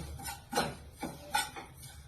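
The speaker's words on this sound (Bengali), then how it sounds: "শুকনো কলায় সাদা তিলটাকে নেড়ে নিতে হবে" Dry white sesame seeds stirred in a hot dry wok on a gas flame, with a few short scraping, rattling strokes of a spatula against the metal pan, close and fairly quiet.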